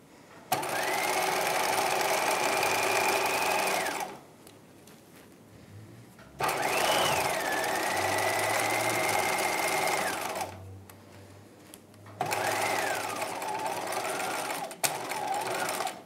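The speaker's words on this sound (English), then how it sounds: "let's go over to the sewing machine. I'm gonna sew" A sewing machine stitches a bodice seam in three long steady bursts of rapid mechanical whirring, close and loud, with brief quiet pauses between runs.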